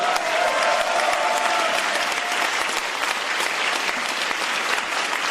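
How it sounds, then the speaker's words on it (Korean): Steady, dense applause from a large audience at a political party's leadership acceptance speech, loud and sustained without pause, with a faint crowd murmur underneath. "그것에 동의하시면은 한번 큰 박수 주십시오."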